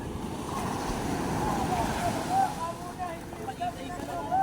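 Waves slap and wash against a small fishing boat at sea during lobster fishing, with surging water and wind gusting over the microphone, while people talk and shout nearby.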